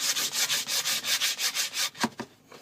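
A rough sanding block rubs over the head of an old axe in quick, regular back-and-forth strokes, about a dozen close scratchy passes, then a few slower strokes before stopping.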